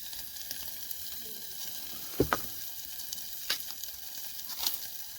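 Pork fat sizzles and crackles steadily in a Fire Maple camping pot over an open campfire, with a few sharper pops standing out from the constant hiss.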